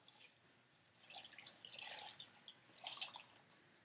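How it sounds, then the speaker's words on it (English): Water poured into a stew pot of pasta and cabbage, faint splashing and dripping in soft bursts that build toward the end, quiet and close with no talk. "And we're going to add the water."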